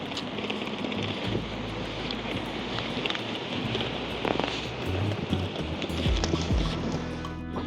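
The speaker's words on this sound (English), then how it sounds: "It's super windy here" Strong wind buffets and roars continuously, with heavy rumbling gusts hitting close by throughout.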